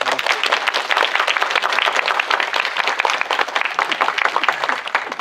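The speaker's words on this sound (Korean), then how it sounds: "박수를 좀 보내주시면 감사하겠습니다" A theater audience at a special screening Q&A applauds an animation director, a loud, dense burst of clapping that continues evenly for several seconds.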